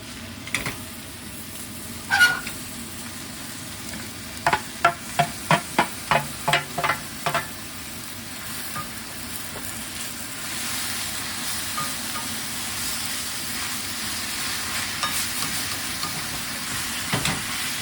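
Meat stir-frying in a pan for Japanese-style curry, a steady sizzle with a run of evenly spaced scraping stirs in the middle and occasional clatter, no talking.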